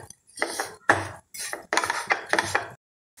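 Besan halwa roasting and stirred with ghee and sugar in a pan, heard as bursts of metallic scraping and clinking from a spoon against the vessel, separated by short pauses, close and moderately loud with no talking.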